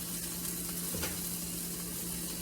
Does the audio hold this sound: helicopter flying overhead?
no